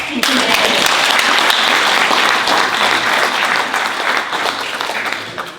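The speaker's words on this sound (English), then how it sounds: "One more clap." An audience at a storytelling festival claps together in a dense burst of applause that holds steady for several seconds before tapering off at the end.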